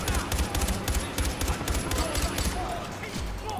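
Rapid bursts of automatic gunfire rattle through a Far Cry 4 firefight, dense repeated shots at close range during a battle for a bridge, with someone talking over the shooting.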